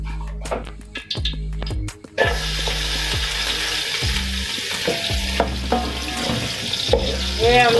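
Onions sizzle in hot oil in a pan with a steady, dense crackle, loud and close, after a few clanks and stirring knocks of a utensil at the start.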